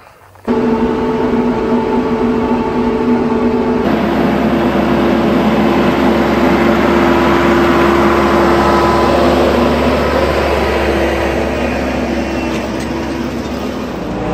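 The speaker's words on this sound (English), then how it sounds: "So let's mow some roads through there." A tractor pulls a RhinoAg TS10 flexwing mower through weeds, producing a loud, steady engine drone with a rushing mechanical roar that holds unbroken for the whole stretch, close by and with no voices.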